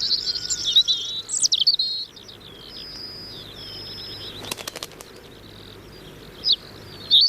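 A robin sings its territorial song outdoors, bright high phrases in short bursts early on, then a quieter stretch with a faint insect hum beneath and brief chirps near the end.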